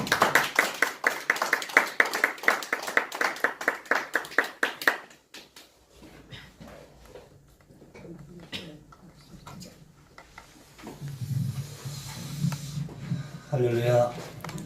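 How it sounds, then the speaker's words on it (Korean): A church congregation at a Sunday worship service claps to welcome a guest speaker, a dense run of rhythmic hand claps for about five seconds that stops abruptly, followed by someone talking over quiet room noise. "나오실 때 박수로 환영하겠습니다."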